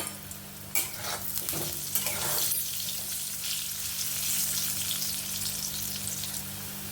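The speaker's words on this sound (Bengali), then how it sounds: "এবার আলুগুলো একটু লালচে করে ভেজে নেব" Potatoes seasoned with turmeric and salt fry in hot oil for a potato and pointed gourd korma, giving a steady, close sizzle throughout with a few soft stirring knocks near the start.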